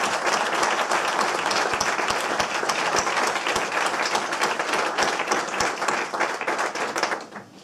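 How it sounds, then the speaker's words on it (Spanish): A crowd at a political candidacy presentation in Valladolid bursts into steady, loud applause, dense clapping with some sharper individual claps, sustained before trailing off at the end. "Un aplauso también."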